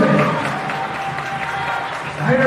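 A home crowd at a girls high school volleyball game cheers and applauds in a gym, a steady mid-loud roar of voices and clapping that swells toward the end.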